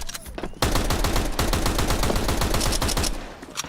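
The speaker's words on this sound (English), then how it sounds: "Ooh, sounded like a couple of extra bullets were used there" A long rapid burst of automatic gunfire in a professional Counter-Strike match: dense, close, loud shots firing in quick succession for about two and a half seconds, then a brief trailing shot.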